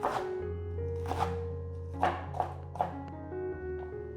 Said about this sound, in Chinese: 换个方向，切成小丁。